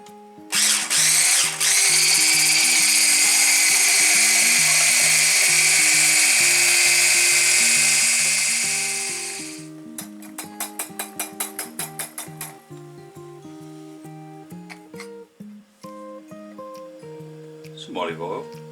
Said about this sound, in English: And then with my new whisk,